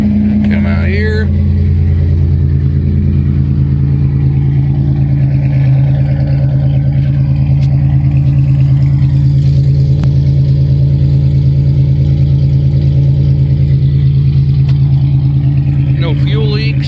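A 1989 Chevy Cavalier engine idles steadily after a new fuel pump is fitted, a constant mid-pitched hum held close for the whole stretch, with brief speech at the start and end.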